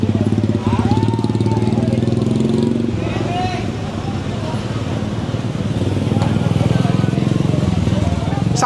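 A motorcycle engine runs steadily nearby with a low, continuous drone, while people talk over it throughout.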